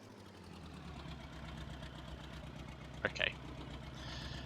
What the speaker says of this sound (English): the tractor doesn't exactly drive fast anyway